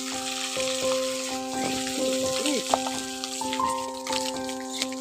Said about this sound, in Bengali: এখন ফোড়নটাকে একটু ভেজে নিয়েছি